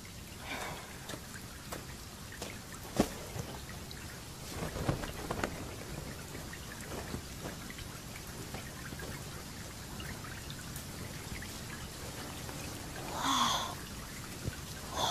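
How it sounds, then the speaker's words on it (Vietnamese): Steady rain pours outdoors on a cold night, a constant wash of noise broken by brief patters and knocks, with a faint rumble of thunder in the distance. "Bên ngoài mưa to, trời lạnh."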